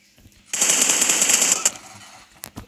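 Sustained burst of automatic gunfire from a weapon in the mobile battle-royale game PUBG Mobile, a loud rapid rattle lasting about a second, followed by a few sharper isolated shots near the end.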